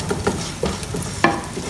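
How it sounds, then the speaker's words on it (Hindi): Sliced onion frying in oil with black peppercorns, cloves, cinnamon stick, star anise, black cardamom and a bay leaf for beef pulao, a steady close sizzle punctuated by a few brief stirring scrapes and clinks. "जी, तो प्याज यहाँ फ्राई हो रहा है।"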